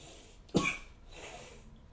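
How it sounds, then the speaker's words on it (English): A single short cough bursts out once, close and fairly quiet, from a person recovering from a cold in an otherwise quiet room. "Pardon my cough."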